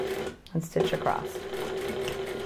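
Sewing machine stitching across a shirt sleeve placket, a steady close mechanical hum with a few clicks as it starts, with a voice talking over it.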